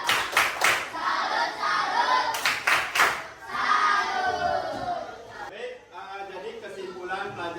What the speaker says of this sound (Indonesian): Beri dia tepuk salut